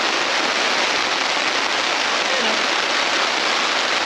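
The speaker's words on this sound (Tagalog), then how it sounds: "Sarap pakinggan ng ulan, di ba?" Steady, dense patter of rain drumming on a taut tent surface close by at a campsite, an even hiss with no break throughout.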